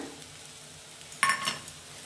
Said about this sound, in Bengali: কোচানো পেঁয়াজটা দিয়ে দেবো। এবার কাঁচা লঙ্কা কুচানোটা দিয়ে দিলাম।